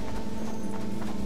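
Horse hooves clip-clopping in the video game Red Dead Redemption: Undead Nightmare, a quick steady run of close hoofbeats over a droning background.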